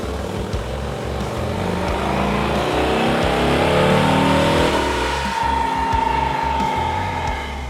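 A stock 121 cubic inch CVO Road Glide ST motorcycle engine revs on a dyno, a loud, close, throbbing roar that builds to a peak and then eases back, with no talk.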